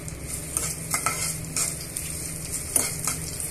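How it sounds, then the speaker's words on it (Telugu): Tempering spices, dried red chilies and garlic fry in a pan, giving a steady close sizzle broken by repeated scrapes and taps of a stirring spoon. "ఈ పోపు దినుసులు, ఎండుమిరపకాయలు, వెల్లుల్లిపాయలు అన్నీ కూడా బాగా వేయించేసుకోవాలి"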